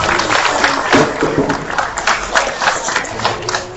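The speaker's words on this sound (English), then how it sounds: "Let's go ahead and give these exhibitors out here in the class 3 a nice big round of applause" Audience applause and scattered cheering at a livestock show, following market pig exhibitors in their class: a broad, steady wash of many clapping hands that carries through the whole moment at close range.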